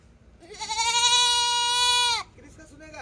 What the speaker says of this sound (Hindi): और यह है हमारे पास बहुत ही स्पेशल ब्रीड की बकरी है, सॉरी भेड़ है ये